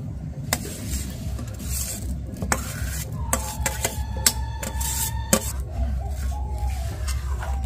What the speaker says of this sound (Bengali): এবার অল্প অল্প করে জাল দেব আর এইভাবে ঘন ঘন নাড়তে থাকবো।